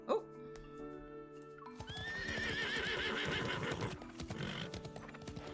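A horse in the video game Love and Deepspace whinnies loudly, then hooves gallop in a fast close rhythm that fades slightly, with music playing along and a brief voice.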